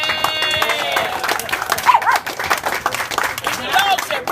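A dog barks a few times amid clapping, cheering and several people talking during a public meeting.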